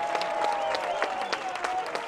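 A crowd at a Coastal Carolina versus NC State college baseball game cheers and claps in a steady roar of applause, with a faint sustained tone running underneath and scattered louder claps.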